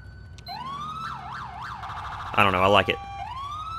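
Police siren from GTA IV, the Mastercom B tone on a 2015 Chevy Tahoe, sweeping in rising wails and then a loud rapid yelp burst near the listener, with someone speaking briefly over it.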